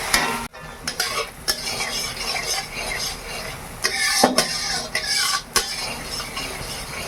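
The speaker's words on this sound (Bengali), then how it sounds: "এবার আমি পেঁয়াজটা ভেজে নেই।" Onion frying in a pan for a village-style chicken curry, with steady broadband sizzle and repeated scraping, stirring strokes of a utensil against the pan, close and continuous with no talk.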